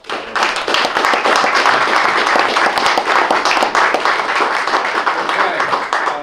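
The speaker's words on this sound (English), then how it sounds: "give them a round of applause" Sustained applause from a sizable crowd at a museum open house, loud and continuous clapping for several seconds, with a few voices mixed in.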